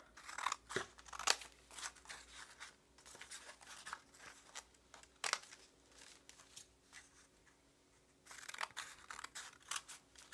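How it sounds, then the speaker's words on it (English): Scissors cutting paper into strips for paper weaving, a rapid series of close snips and crisp paper crunches, with a brief pause before the cutting resumes. "If I cut too far, then I am not going to be able to do this paper weaving"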